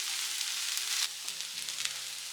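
Curry leaves and spice powder fry in a pan for a capsicum potato curry, giving a steady, close sizzle with a brief stir partway through. No one speaks.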